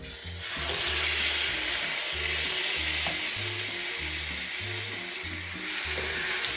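Loud, steady sizzling of chicken frying in very hot oil, a dense crackling hiss with a low rhythmic scraping underneath.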